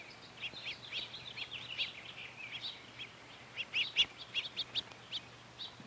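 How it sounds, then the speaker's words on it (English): Small birds at a backyard feeding tray give bright, rapid chirps and tweets in scattered bursts, fairly close but soft, over a faint steady hum. "The boys are happy because so many birds have come to the tray to eat"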